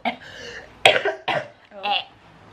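A few rough, throaty coughs in quick succession, close and fairly loud, mixed with some throat clearing.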